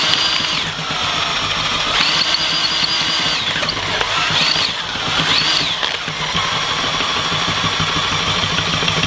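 A ceiling fan rigged as an alternator spins steadily at a slow rate of about 200 RPM, giving a continuous mechanical hum with a faint whine that rises and falls slightly, with no talking.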